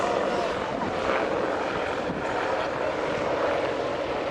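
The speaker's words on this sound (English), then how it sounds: "there it is, ladies and gentlemen, up close and dirty, the Apache attack helicopter" Apache attack helicopter flying low and close at the Biggin Hill air show in 2008, its rotor and engine roar steady and loud throughout with a broad, churning wash of noise.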